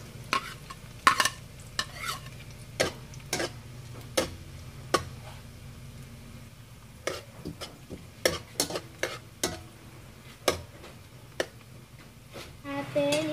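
Garlic sizzles in a pan for pork adobo while a spoon stirs and scrapes it in sharp, irregular strokes over a steady background hiss, close and moderately loud.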